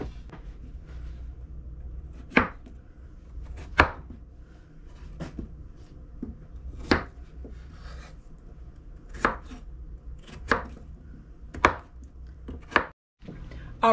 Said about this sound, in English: Now I just need to cut up some potatoes